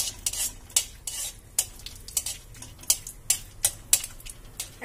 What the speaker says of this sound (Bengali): এর মধ্যে আমি দিয়ে দেবো দালচিনি, গোটা এলাচ এবং লবঙ্গ। এটা যখন একটু ভাজা ভাজা হবে